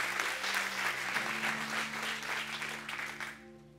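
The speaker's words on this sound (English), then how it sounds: "Can we give the Lord a hand clap for that?" A church congregation claps hands together in praise, a dense, steady wash of applause with a low sustained organ or keyboard tone underneath, fading out at the very end.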